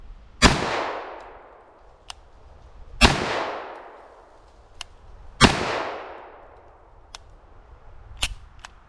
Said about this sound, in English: We're going to show 45 ACP unsuppressed and then suppressed using the Obsidian 45.